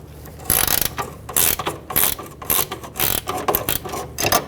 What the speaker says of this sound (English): Loosen the rear eccentric bolt for the control arm.